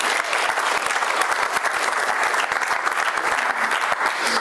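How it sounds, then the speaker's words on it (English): An audience at a comedy magic show gives a volunteer a loud, dense burst of clapping that stays strong from start to finish. "Give her a big round of applause."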